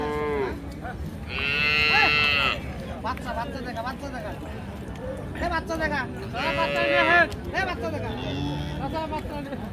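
Friesian dairy cows moo repeatedly at a busy outdoor cattle market in Dinajpur, Bangladesh, with several loud, drawn-out calls rising over a steady murmur of crowd chatter and nearby talk.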